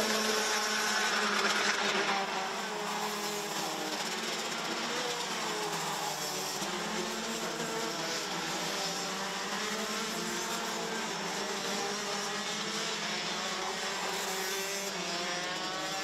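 Racing karts at a Wittgenborn RMC Masters race sweep round the final corner, a steady layered engine drone holding for the whole stretch without a break, moderately loud and fairly distant.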